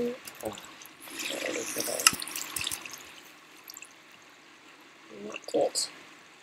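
A bucket of water poured out in Minecraft, heard as short splashing, running-water bursts that come and go, with quieter gaps between them and some background noise.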